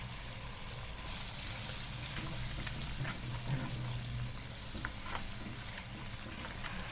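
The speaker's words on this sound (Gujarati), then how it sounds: "હવે પાણી ઉકળવા માંડ્યું છે" Water bubbles and simmers in a pot with a soft, steady sizzle and occasional small pops, quiet and close.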